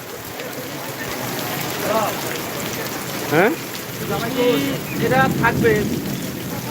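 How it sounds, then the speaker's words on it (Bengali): Steady rain falls on surfaces in a constant hiss, while people talk intermittently over it and a few louder voiced bursts rise above the downpour. "এই তো বৃষ্টি"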